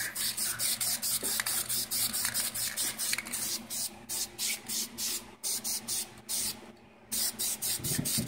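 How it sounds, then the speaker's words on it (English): High temperature paint sprayed from an aerosol can onto an exhaust manifold, in a series of short hissing bursts with brief gaps between them, close up and steady. "we're going to give it a coat of nice high temperature paint"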